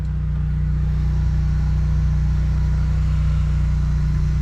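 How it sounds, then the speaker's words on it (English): A drain jetter engine runs as a constant loud low drone with a steady hum, near and unbroken, with no voices. "Let's fire up this jetter"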